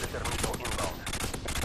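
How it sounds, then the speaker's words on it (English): Rapid automatic gunfire in Modern Warfare 2 aimed at an enemy UAV overhead, a dense stream of sharp cracks over about a second and a half with game noise behind. "I'll shoot down the UAV."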